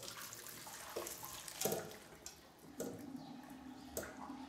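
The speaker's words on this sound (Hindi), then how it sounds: "तो अब हम इसे चूल्हे से नीचे उतार लेंगे और पानी को छान लेंगे।" Water from boiled cauliflower poured off and drained through a strainer, a steady splashing rush with a few heavier gushes, close by and without talk.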